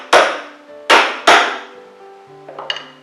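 A hammer strikes a Fast-Folder clamp holding a wooden stool seat part, with three loud, sharp metallic blows with ringing decay, then softer clinks and tapping as the clamp shifts.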